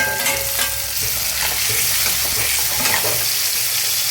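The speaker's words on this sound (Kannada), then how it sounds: "ಟೊಮೆಟೊ ಹಾಕ್ಕೊತಿದ್ದೀನಿ, ಹೆಚ್ಚಿಟ್ಕೊಂಡಿರೋ" Chopped tomatoes fry and sizzle in a hot pan alongside onions for a chennangi and hesaru kaalu dish, with steady loud crackling and occasional scraping stirs running throughout.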